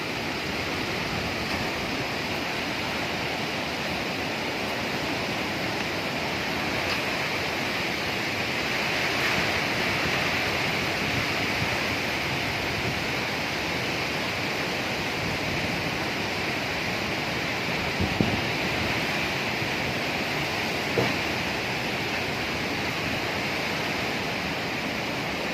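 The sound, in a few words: strong wind during Typhoon Odette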